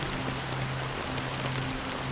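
Steady rain falls in the video game Honkai: Star Rail, a dense, even hiss of drops with a faint low hum underneath, continuous and unchanging throughout.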